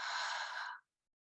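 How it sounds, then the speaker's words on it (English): A single slow breath out during a mindfulness exercise, a soft airy exhale lasting under a second, close and quiet, then silence. "and we're breathing out"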